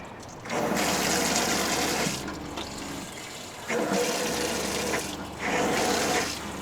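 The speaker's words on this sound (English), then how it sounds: "turn it on hot and get however much hot or cold water we want" Water running from a folding faucet in an RV sink, a steady hissing gush that switches on and off in several bursts, fairly close with no talking.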